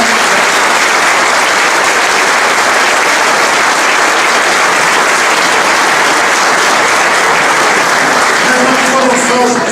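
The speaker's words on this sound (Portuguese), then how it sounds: "Um aplauso muito grande para todos os presidentes de junta que ao longo destes 12 anos nos acompanharam" Loud, dense applause from a large audience for parish council presidents at a municipal presentation, a steady unbroken wash of clapping close by, lasting throughout with no pauses.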